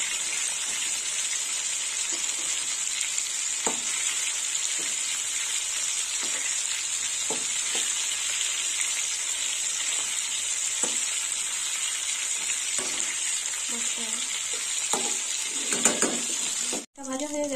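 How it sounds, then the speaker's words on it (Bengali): Pieces of Bhola fish fry in a pan of hot oil with a steady, close sizzle, broken by occasional soft clicks and bumps of a utensil and a brief dropout near the end. "মাছটা ভাজা হয়ে গেছে, এবার একটু মাছটা তুলে নেবো।"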